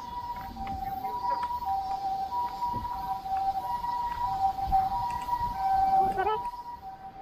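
Ambulance siren wailing at moderate distance with a steady two-tone pattern while a bike ride continues through Hakone, road and wind noise underneath and some voices nearby.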